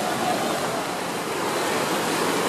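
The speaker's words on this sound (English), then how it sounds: "Here's the fast-flowing water" Fast-flowing floodwater rushes at Minnehaha Falls, a steady, dense roar of churning water filling the scene without a break, close and loud.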